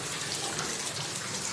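Tap water runs steadily into a basin for a foot bath, a close, even rushing gush with no pauses.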